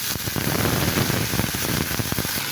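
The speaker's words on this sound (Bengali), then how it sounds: "তো এখানে দিয়ে দিচ্ছি একটু পানি" Water poured into a pan of fried onions, a dense crackling, spattering hiss with rapid bursts and stirring knocks, close and loud from start to finish.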